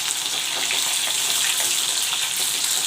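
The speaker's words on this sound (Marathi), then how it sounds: "जेव्हा आपण मिरची फ्राय करतो ना त्या पद्धतीनेच आपल्याला इथे मिरची फ्राय करून घ्यायची" Green chillies frying in a pan give a steady, dense sizzle and crackle throughout, close and fairly loud with no pauses.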